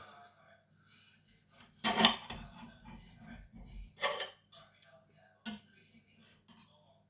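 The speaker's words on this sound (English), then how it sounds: "let's cut into this steak" A knife and fork work through a griddled steak on a plate, giving a few scattered clinks and scrapes against the dish over quiet background hum, with soft talk alongside.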